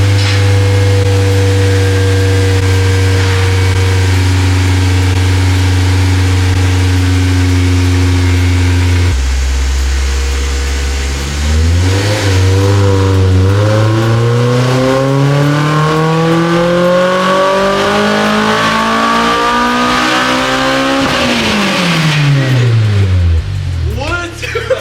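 Honda S2000 with 140k miles and a newly installed exhaust, revved hard on a dyno: a loud steady drone, then a long climbing wail as the engine sweeps up through the revs before dropping off, with a voice over it.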